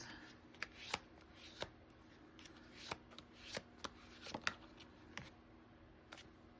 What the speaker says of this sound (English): Feel the need to shuffle